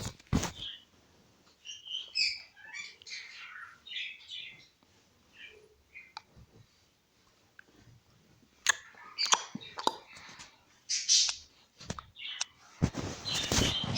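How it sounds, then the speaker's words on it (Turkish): A pet bird chirping indoors, with scattered high tweets and chirps, sharp clicks and a flurry of rustling toward the end, close and intermittent. "Kuşum da burada."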